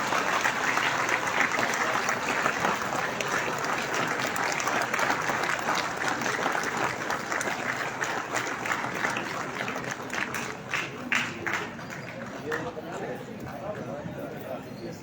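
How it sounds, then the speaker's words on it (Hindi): An audience claps loudly to welcome the chief guest at an HCL Foundation 'Alankar' community crafts unveiling event. The dense, steady applause lasts throughout and thins slightly near the end. "मैं चाहता हूं कि जोरदार तालियों के साथ उनका स्वागत किया जाए"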